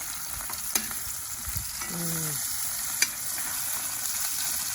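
Burger and onions fry in a skillet on a Big Green Egg grill, giving a steady close sizzle with a couple of sharp clinks and a brief squeaky scrape as the pan is worked.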